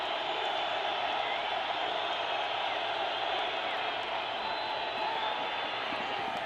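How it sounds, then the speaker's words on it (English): A college football stadium crowd, Oklahoma Sooners against UTEP Miners, roars in a constant dense wash of noise on a key down, loud and steady throughout with no clear voices on top. "Crowd noise picks up now on 2nd and 16."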